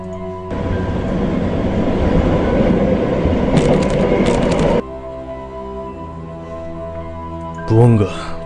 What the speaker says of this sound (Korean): 전철이 날리며 철컹철컹 흔들 때마다